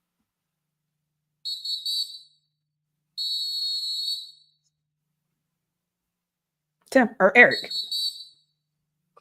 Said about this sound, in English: It just keep whistling and whistling.